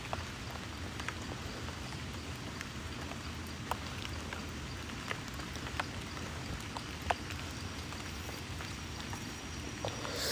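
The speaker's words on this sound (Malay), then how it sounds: "Fokus bunyi-bunyi hujan ni." Heavy rain falling at night on a hill, a steady soft patter with scattered distinct drips and taps, fairly faint and continuous with no talk.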